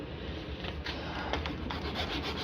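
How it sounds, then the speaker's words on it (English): A file rasps steadily at the notches of a motorcycle handlebar grip while heated grips are fitted on a 2019 Suzuki GSX-R600, a faint continuous scraping with soft repeated strokes close up. "I have filed this sucker down as far as she'll file"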